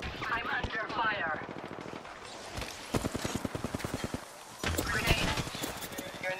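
Rapid bursts of automatic gunfire in a shooter video game, loud and close, firing in repeated volleys with short pauses, with a player talking over parts of it.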